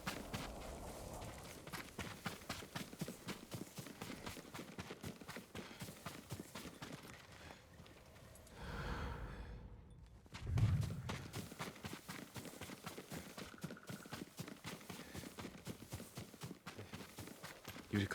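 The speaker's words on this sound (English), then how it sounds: "Yuriko's horse." Horse hooves clip-clop steadily on the ground in Ghost of Tsushima, a continuous run of close, regular hoof beats under ambient game sound, with a brief louder thump near the middle.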